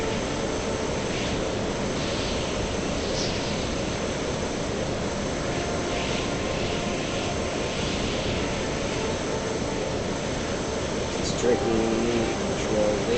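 A steady, broadband jet-like engine drone from an aircraft landing on a runway in the Stormworks video game, holding an even level throughout with faint tonal whines near the end.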